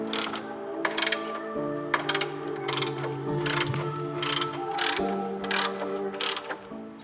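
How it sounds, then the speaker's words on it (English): A ratcheting wrench tightens the strut tower brace nuts on a BMW G87 M2, with quick repeated clicking bursts of the pawl and metallic turning noises in a steady, close rhythm. "Tighten up the strut tower brace nuts."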